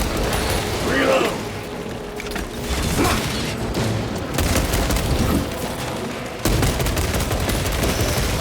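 Weapon handling in Warhammer 40,000 Space Marine 2, with loud mechanical clanks and ratcheting over bursts of gunfire and booming blasts in a continuous dense battle mix.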